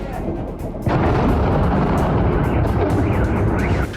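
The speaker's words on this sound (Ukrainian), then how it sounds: "4 січня в Євпаторії та Севастополі лунають потужні вибухи" A powerful explosion in Yevpatoria or Sevastopol hits with a sudden heavy boom and then rolls into a sustained, loud, low rumble lasting several seconds, with voices faintly present.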